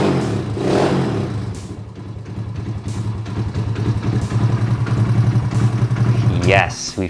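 A Honda CT70 motorcycle engine idles and runs steadily up close, a continuous low putter with slight revving near the end, while someone talks over it.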